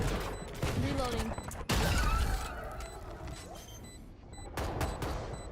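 Video-game gunfire rings out in repeated sharp shots with a heavy burst near the middle, mixed with game effects and voices talking over the action.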